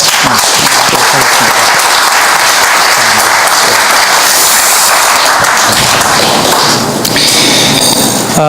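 A large congregation at a memorial service and rally gives loud, sustained applause, a thick wash of clapping with scattered thumps that fades slightly near the end.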